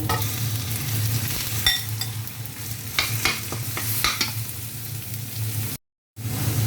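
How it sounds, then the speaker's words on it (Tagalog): Pork meat frying in a pan of oil, a loud close sizzle with spatula scrapes and stirring clatter, broken by a brief silent dropout near the end. "At ito na, ilalagay na natin yung ating karne."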